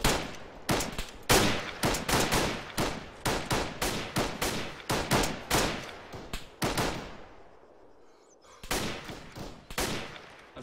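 Gunfire in a military video game firefight against AAF forces: rapid bursts of loud, sharp shots in a dense rhythm, a brief lull, then more shots resuming.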